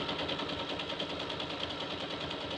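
A sewing machine stitches a long seam on an apron pocket with a fast, even mechanical whirring and chatter, faint and steady throughout.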